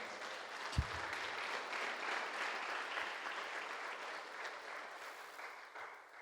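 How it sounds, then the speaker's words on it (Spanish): Applause from a church congregation carries on steadily for several seconds at a moderate distance, with one sharp knock early on and a gradual fade near the end. "Aplauso para la majestad de Dios."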